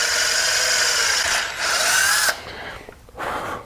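A power drill with a small bit bores through a motorcycle wheel, whining steadily at close range, then briefly stopping and restarting in a shorter burst, with no voices.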